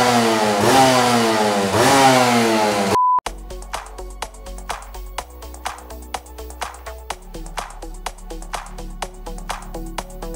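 A small 125cc motorcycle engine, kick-started, revving up and down repeatedly at close range, then an abrupt cut to a steady rhythmic beat.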